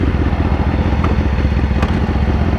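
A BMW S1000RR motorcycle fitted with a Brock's Alien Head 2 full exhaust idles with a steady, loud, rumbling engine note, heard alone with no talk.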